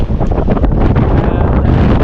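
Strong wind roars and buffets the microphone without letup on a small fishing boat out on the water, a loud, constant rush with no talk.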